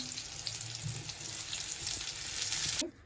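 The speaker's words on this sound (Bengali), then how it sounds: "পটলগুলো ভালো করে ভাজ" Pointed gourd (potol) slices fry steadily in a pan, a dense continuous sizzle and crackle up close with no voices, stopping abruptly near the end.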